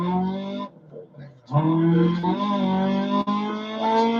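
Rally car engine and exhaust in the Dirt Rally 2.0 racing game, a loud buzzing drone that dips briefly and then climbs back up as revs rise, with a player talking over it.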